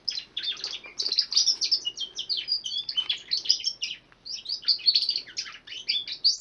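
A pet bird's rapid, high-pitched chirps and tweets repeat almost continuously, bright and fairly close, with only brief pauses between bursts.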